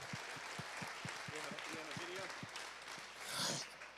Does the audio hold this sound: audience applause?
yes